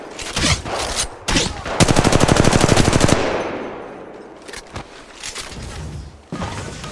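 Rapid automatic gunfire from Apex Legends Mobile, a loud sustained burst of evenly spaced shots after a few single heavy cracks, then a fading tail and a couple of later bangs, with a voice briefly heard.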